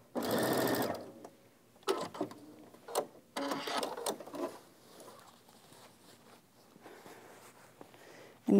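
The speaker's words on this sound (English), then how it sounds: "One thing I like to do is once I've stitched over it, I like to go back with a back stitch." Sewing machine back-stitching over the corner of a bag pocket, running in several short whirring bursts with brief pauses between them, close and fairly clear.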